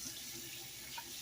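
Tap water runs steadily over raw New York strip steaks being rinsed in a kitchen sink, a soft, continuous splashing stream at close range with no voices.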